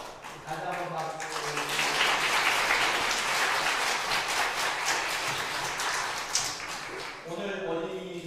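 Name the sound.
church congregation applause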